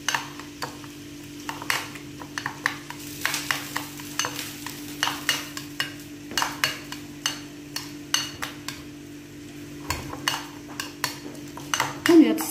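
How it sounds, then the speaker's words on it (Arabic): Sauce stirred in a pan after olive oil is added, for homemade tacos: a steady run of clinking spoon-on-pot scrapes and taps, close and fairly loud, with faint sizzling underneath. "كنضيفو القليل من زيت الزيتون وكنخلطو"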